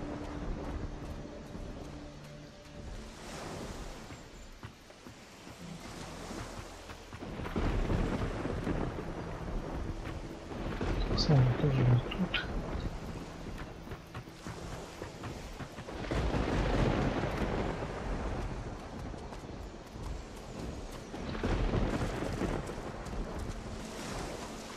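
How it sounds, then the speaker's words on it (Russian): A thunderstorm in the video game Risen 2: Dark Waters: rolling thunder swells and fades in repeated waves over steady rain and wind, deep and broad, with no voices. "Блин, опять на грозу."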